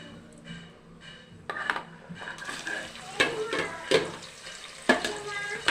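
Four large sliced onions with green chillies sautéing in a pan for mushroom biryani: sizzling builds as spoon strokes scrape and clatter repeatedly, close by, with faint talk early on.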